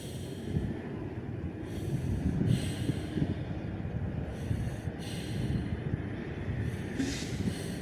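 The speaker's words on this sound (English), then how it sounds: "Take 4 breaths." Deep, slow breaths taken during a Pilates stretch, close and airy, several inhales and exhales repeating in an even rhythm over a soft background hum.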